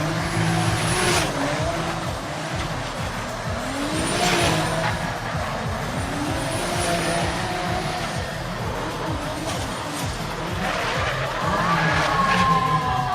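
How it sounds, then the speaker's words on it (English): BMW drift car at an FIA Intercontinental Drifting Cup qualifying run, with a loud, continuous engine roar rising and falling through gear changes and repeated tire squeals, near and sustained throughout with faint crowd noise behind. "second run now for Italian Guidetti Riccardo in his BMW"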